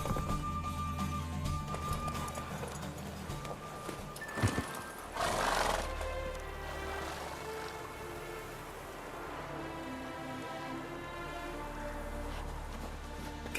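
Roach, Geralt's horse in the video game Witcher 3, gallops with rhythmic hoofbeats and lets out a loud whinny partway through, set against a steady game music and ambient rain backdrop.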